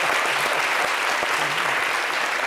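A studio audience applauds a Zouglou band on a TV show, a short, dense burst of clapping at steady loudness.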